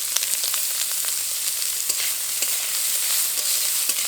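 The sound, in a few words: banana stem frying in mustard oil in a wok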